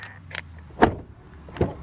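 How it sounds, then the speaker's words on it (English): A Volkswagen Passat facelift's car door swings shut with two solid, close thuds a short moment apart, standing alone without speech. "Then the door closing sound test."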